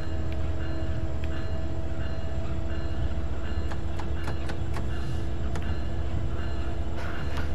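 A Metrolink commuter train running northbound from Los Angeles in Train Sim World 4 gives a steady, loud rumble with a constant tonal hum. Sharp clicks and clacks are scattered on top of it.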